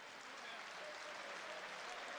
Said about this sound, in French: Voilà, tout le monde applaudit.